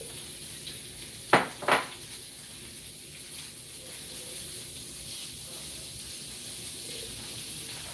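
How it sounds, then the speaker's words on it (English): Soft steady sizzle of sausage frying in a hot pan with two quick metallic clanks early on, then frying continues quietly on its own. "The other frying pan's hot, so we'll put the sausage in there."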